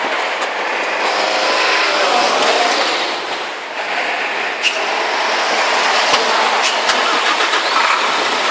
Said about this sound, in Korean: 시동 껐다 가 다시 한번 걸어보세요